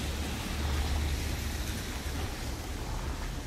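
Steady rain falling outdoors in Savannah, a dense, even hiss with a low rumble underneath, constant and fairly loud throughout with no voices.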